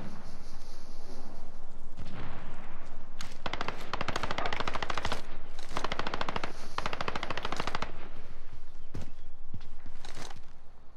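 Rapid machine-gun bursts in a military video game, loud and close, repeating in several long volleys with brief gaps and single sharp shots toward the end.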